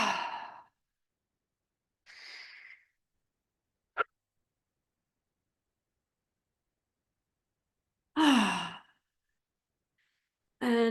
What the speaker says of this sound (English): take a couple more deep, slow, and noisy breath.